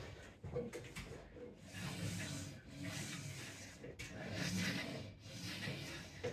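A Marbo Sport MH-W101 wall-mounted lat pulldown machine in motion, heard as soft, quiet rubbing and sliding hiss in smooth repeated strokes, close and faint with no talking.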